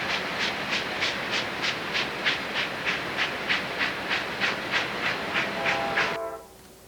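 A train rolls through a deep canyon, wheels clacking in a fast, even rhythm over rail joints, loud and close, then the clatter drops away abruptly near the end.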